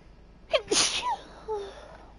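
A single sharp sneeze during a Werewolf: The Apocalypse - Earthblood play session, a quick intake followed by a loud burst, then faint trailing sounds afterward.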